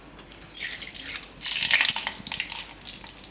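Mustard seeds crackle and sizzle in hot oil for a Gujarati galka and moong dal curry, a bright continuous spitting hiss that swells in bursts, close and alone.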